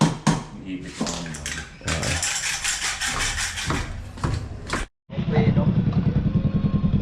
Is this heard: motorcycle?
yes